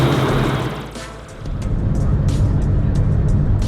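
McLaren F1 supercar driving on Florida roads, its engine note rising and dipping then holding a loud, sustained drone as it cruises nearby, with faint intermittent clicks overhead.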